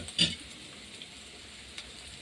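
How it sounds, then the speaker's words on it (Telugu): Onions frying in a pan on a low flame while egg pulusu is cooked: a soft, steady sizzle with one brief clink near the start, faint and alone. "అది సిమ్లో పెట్టుకొని అయితే వేయించండి, లేదంటే కొంచెం అడుగుంటుతాయి ఆనియన్స్"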